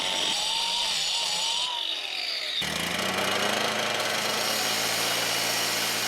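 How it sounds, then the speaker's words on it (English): An angle grinder marks the corners of stones for a backyard golf course bridge, cutting in abruptly partway through with a loud, steady, close whine after a low engine-like hum. "I'm gonna mark the corners with the grinder."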